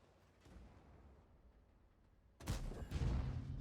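A tank gun fires in a video game, a sudden sharp blast with a rumbling tail that cuts in after a quiet stretch of low engine hum.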